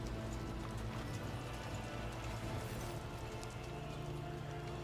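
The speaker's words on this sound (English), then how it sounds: "Examine the horse." Hooves clip-clop steadily on a stable floor in the Warhammer 40K game Rogue Trader, a horse shifting about with a faint whinny, set against a soft rain-like ambient wash.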